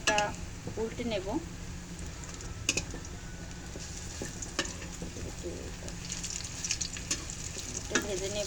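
Thankuni leaf fritters are turned and fried on the other side in a little oil, giving a constant crackling sizzle with clicks of a utensil scraping the pan and a voice talking over it.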